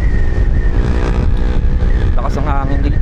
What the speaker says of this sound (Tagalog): Lakas ang hangin dito.